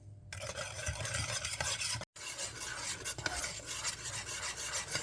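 A spoon stirs thick kimchi sauce sweetened with sugar as it simmers in a pot, scraping and rasping steadily and close up for several seconds, with a faint sizzle underneath and a brief gap in the middle.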